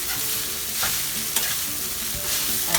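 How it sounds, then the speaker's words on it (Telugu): Flattened rice upma is stirred in a frying pan, with steady sizzling and repeated scraping strokes of a spoon close by. "ఇలా వేసేసి మధ్యలో ఇలా కలుపుతూ ఉండాలి"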